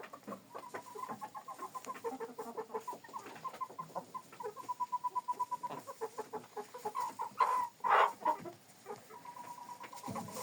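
Several chickens cluck nearby in short, rhythmic bursts, with a few louder squawks toward the end, fairly quiet overall.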